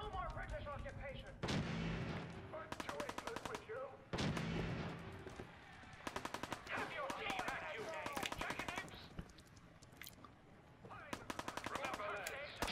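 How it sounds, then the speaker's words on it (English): Gunfire in the video game Fallout 4: repeated rapid bursts of automatic fire and single heavy shots crack out at intervals across the scene, with faint voices underneath. "they're shooting whatever that guy is"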